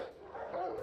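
A single short dog bark rings out in an animal control shelter, a brief muffled yip-like bark at moderate distance.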